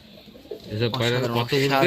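Madras pigeons being shown for sale coo in a steady series of low, throaty calls, close by and fairly loud, growing fuller toward the end with no talk over them.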